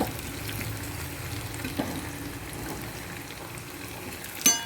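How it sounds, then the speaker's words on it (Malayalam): Curry leaves frying in a pot of kurkku kalan curry give off a steady, close sizzle that runs the whole time, with a brief clatter near the end and no talking. "അപ്പോൾ ഞാൻ കറിവേപ്പില ഇടും നന്നായിട്ട്"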